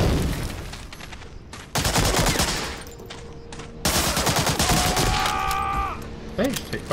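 Gunfire in Medal of Honor: Allied Assault, a World War II shooter, with loud bursts of automatic fire in repeated volleys and a few sharper single shots, close and dense, broken by short pauses.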